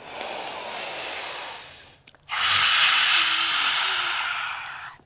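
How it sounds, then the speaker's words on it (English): Deep, steady exhale during a yoga stretch in an online class: a long breathy rush, a short pause, then a second, stronger and sustained breath out, close and clear with no talking. "Take a big breath in. Exhale."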